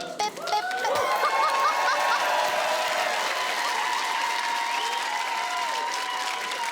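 A studio audience at a comedy panel show breaks into loud, sustained applause with scattered cheers and shouts, the clapping holding steady for several seconds before easing slightly.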